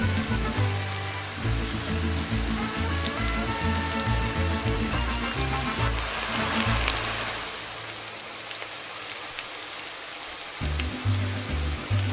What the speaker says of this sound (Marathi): छान कांदा टोमॅटो मध्ये आपली ही कोळंबी ना छान परतून घ्यायची।